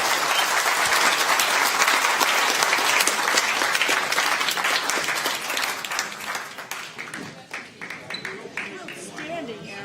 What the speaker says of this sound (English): All right, you can clap again if you want.